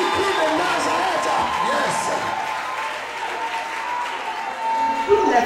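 A church congregation applauds and cheers for Jesus Christ, with steady, sustained clapping from a large crowd and scattered voices calling out over it.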